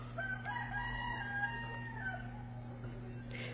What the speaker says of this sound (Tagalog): Ayun yung manok ko nandun sa labas.